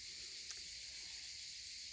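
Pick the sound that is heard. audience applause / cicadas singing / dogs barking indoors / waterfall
cicadas singing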